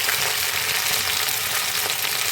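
Cauliflower frying in smoking-hot oil, a dense, steady hiss of sizzling that stays loud and even throughout with no voices.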